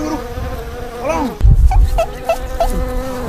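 A swarm of wasps buzzes loudly and steadily close by, a dense insect drone with pitch swells, joined midway by a heavy thump and scuffling, with no speech.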